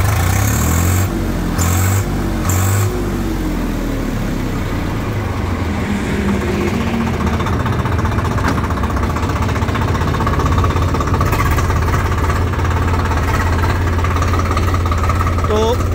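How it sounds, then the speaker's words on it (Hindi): A 3-speed tractor engine runs close by with a steady, throbbing diesel chug throughout, loud and continuous, with a few brief knocks early on. "ट्रैक्टर को चला के देखते हैं जी ऊपर बैठ के"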